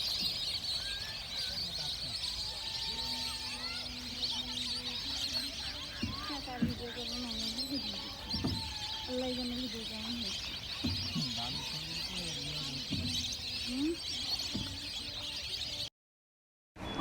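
Winter migratory birds call near village ponds, scattered chirps and whistles at moderate distance over a steady outdoor hum, heard from a boat, while a voice talks at length.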